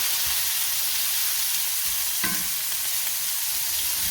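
Seasoned onions grill on a flat griddle for a cheeseburger sub, sizzling in a constant close hiss with a brief scrape of a spatula midway, no voices.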